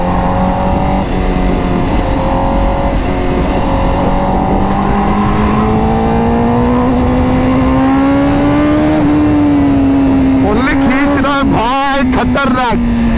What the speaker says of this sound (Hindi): अलग लेवल का साउंड है इसका एग्जॉस्ट का, ऊपर से इंजन में कितनी कड़क है ना इसकी